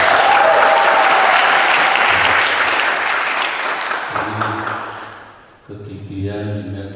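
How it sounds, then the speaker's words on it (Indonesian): Sustained, loud crowd applause for two candidates at a student executive board chair election debate, steady at first and then tapering off as a voice speaks over the fading clapping. "Tepuk tangan kedua-dua."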